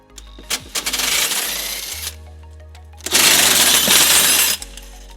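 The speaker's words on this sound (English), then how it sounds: "It's held in by 2 bolts that we'll remove using a 17mm socket." Two bursts of rapid, rattling ratchet clicks from a socket wrench with a 17mm socket removing bolts on a 2010 Toyota RAV4, loud and close, each lasting a second or so, separated by a short gap.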